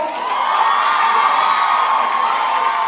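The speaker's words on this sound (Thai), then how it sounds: "ขอเสียงปรบมือให้คุณพลอยดังๆอีกครั้งนะครับ" A crowd at an event cheers and shouts for a performer named Ploy, a loud, sustained wash of voices and whoops that holds steady without a break.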